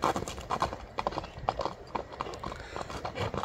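A horse's hooves pound in a quick, irregular clip-clop rhythm, close and fairly loud, with faint background voices.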